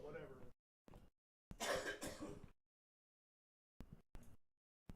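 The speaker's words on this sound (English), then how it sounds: "No, I just coughed." A person coughs close to the microphone in short, sharp bursts separated by silent gaps, with a longer, rougher burst in the middle.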